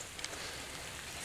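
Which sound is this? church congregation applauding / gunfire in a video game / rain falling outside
rain falling outside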